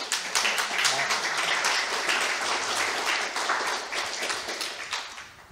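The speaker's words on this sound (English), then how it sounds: "That's the first spontaneous applause today." Spontaneous audience applause at an Arctic conference, a dense wash of clapping hands that holds steady for several seconds and then begins to thin out, with faint voices beneath it.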